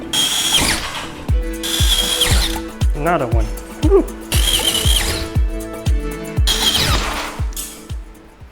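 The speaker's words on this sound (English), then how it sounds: "My drill is super heavy" A power drill whirs in repeated short bursts as it bores holes into the ceiling for recessed lights, with brief spoken remarks and an exclamation between the bursts.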